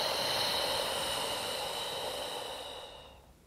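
A slow, steady exhale during a pregnancy breathing exercise, a soft broadband breathy hiss that holds for about three seconds and then fades out, close and alone with no talking.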